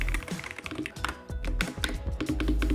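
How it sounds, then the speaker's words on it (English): Typing on a Mad 60 HE gaming keyboard, a quick run of close, crisp keystrokes in an uneven rhythm with a few deeper thocky bottom-outs, played alone. "Here's a quick sound test of the Mad 60 HE."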